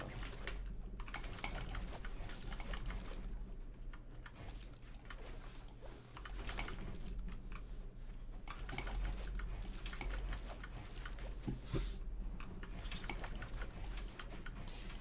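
Rapid typing on an Anne Pro 2 mechanical keyboard, bursts of crisp key clicks and clacks with brief pauses between runs, close and fairly quiet, no voice.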